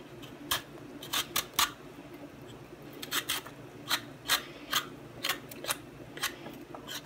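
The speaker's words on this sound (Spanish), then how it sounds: "Yo voy a también a pelar lo que es el chayote." A chayote is peeled with a blade, producing short crisp scraping strokes in quick uneven bursts, close and distinct against a quiet background.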